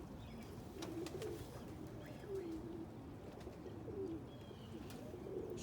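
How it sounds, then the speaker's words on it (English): Pigeons coo in a loft where a black cock is being paired with an Andalusian bald-head hen, soft throaty calls repeating every second or so over a steady background hum, with no talking. "It's a black cockbird with the Andalusian bald-head hen."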